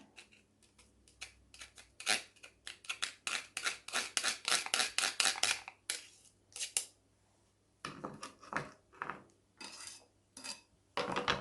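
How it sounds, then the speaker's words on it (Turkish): A whisk clatters quickly against a bowl as yogurt is beaten with garlic, in fast metallic bursts of clinking and scraping that pause briefly partway through before resuming close up. "Ve tekrar sarımsaklarla birlikte çırpalım"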